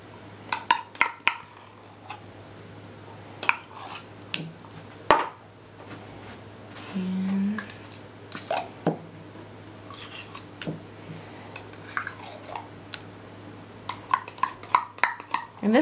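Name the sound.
spooning canned tomato paste into a bowl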